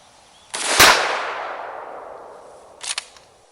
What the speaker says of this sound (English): Let's take a shot, see what type of spread pattern we get.